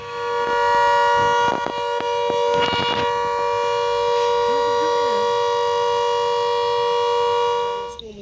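A loud, steady civil defense siren wails at a constant pitch for the whole stretch at a school, with a few brief clanks and a faint voice beneath it.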